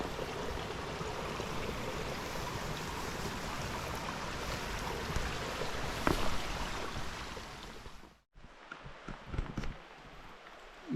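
Crystal-clear stream along the Appalachian Trail in the autumn 100 Mile Wilderness, a steady broadband rush of flowing water for about eight seconds, then an abrupt cut to quieter trickles and rustling.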